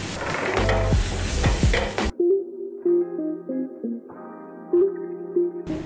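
Chopped garlic sizzles loudly in a pan for about two seconds with stirring scrapes, then cuts off abruptly into light instrumental music.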